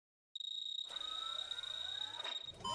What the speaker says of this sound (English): I heard the alarm go off